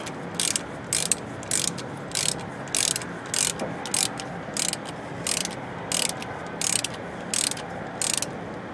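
A ratchet wrench tightens a brake bleeder fitting on a 2007 Nissan Titan, giving a close, loud run of regular ratcheting bursts about every half second.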